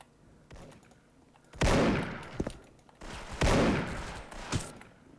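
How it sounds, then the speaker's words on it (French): Sniper rifle fire in the online shooter Soldier Front: two loud, close shots boom and ring out about two seconds apart, each followed by smaller cracks and a fading echo over quiet game ambience. "J'ai l'impression qu'il y a quelqu'un en face qui snipe."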